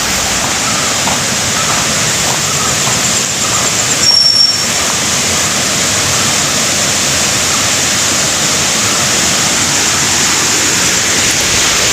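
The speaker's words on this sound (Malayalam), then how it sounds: "അത് നല്ല രസമാണ് ഇവിടെ ആ വെള്ളച്ചാട്ടത്തിൻ്റെ ശബ്ദമൊക്കെ കേൾക്കാൻ വേണ്ടിയിട്ട്" Chembukadavu waterfall in Wayanad rushes with a loud, constant broadband roar, unbroken and close, with a brief faint tonal whistle partway through.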